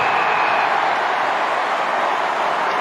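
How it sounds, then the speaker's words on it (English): A dense, steady roar rises from a large crowd at an Australian football match, the Bulldogs in play. It is loud and continuous with no breaks for close to three seconds. "Listen to the crowd."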